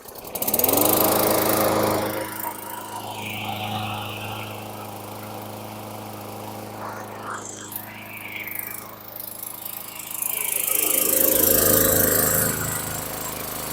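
A 2018 Bolens 500E lawn mower engine pulled over and catching, running loudly with a steady drone, then dipping as it sputters briefly before revving back up near the end.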